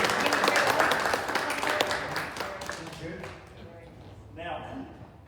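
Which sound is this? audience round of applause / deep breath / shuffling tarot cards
audience round of applause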